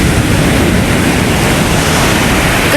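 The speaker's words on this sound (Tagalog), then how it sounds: "Ang lalaki ng alon." Large ocean waves surfing in at high tide at a beach in Baler, Aurora, heard as a loud, constant broadband roar of breaking surf with no voices.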